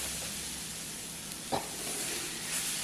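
Ground coconut roasting in a pan, giving a soft, steady sizzle as it is stirred, with a couple of faint scraping knocks from the spoon.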